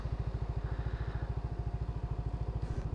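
A motorcycle engine putters with a steady, rapid low thumping rhythm, close and even throughout, on a mountain road cut through the hills in Arita, Nueva Vizcaya.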